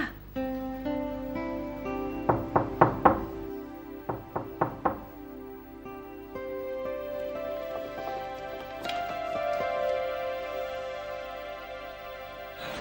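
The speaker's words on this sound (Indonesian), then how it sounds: "Ada yang ngetok pintu." Two quick series of knocks on a door, each a cluster of sharp raps, ring out over soft background music in a drama scene.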